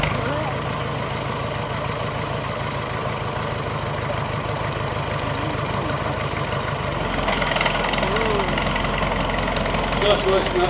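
Pre-1930s vintage tractor pulling uphill in a show ring: a steady, low, throbbing engine chug runs throughout, with voices talking over it and a brief shift in tone partway through.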